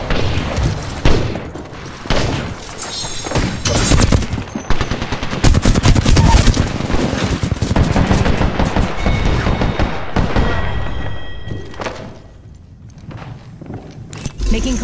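Heavy gunfire in a shooter video game, with rapid machine-gun bursts and scattered loud shots going on almost nonstop, then a short lull before the firing resumes.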